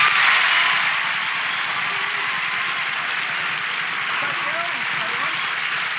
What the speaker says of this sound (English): give him a big round of applause as he comes up for tonight's forfeit